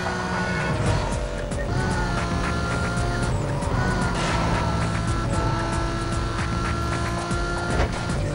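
A Lamborghini Gallardo engine in Need for Speed: Most Wanted: a continuous, loud, close engine drone with shifting pitch as the car accelerates and brakes, plus occasional tire squeal, with no break across the whole stretch.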